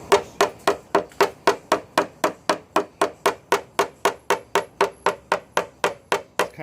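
A hammer repeatedly tapping the top edge of a dent in a Subaru Crosstrek body panel during paintless dent repair, about twenty sharp evenly spaced metallic knocks, close and crisp with no talking.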